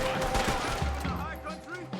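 Rapid gunfire from several weapons rattles through a Red Dead Redemption 2 shootout, dense overlapping shots sounding fairly close under in-game voices.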